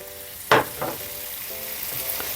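Potatoes being stirred and fried in hot oil in a pan for aloo samosa filling, with a sharp scrape and sizzle burst followed by a softer stir and a low steady sizzle.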